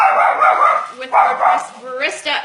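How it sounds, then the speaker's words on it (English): A dog barks several times nearby at a gate, sharp and repeated, while a person talks over the barking. "And that's my dog who heard the gate."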